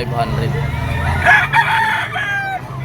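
A stag rooster crows loudly and close at a seller's stall, its call rising and falling over a few seconds over a low background murmur.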